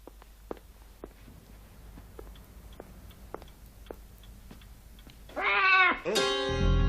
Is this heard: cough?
no